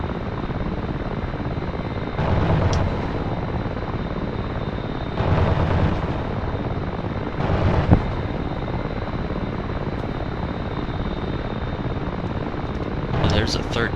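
An AH-6J Little Bird helicopter rotor in the game DCS World hums steadily throughout, with a few short bursts of voices rising over it.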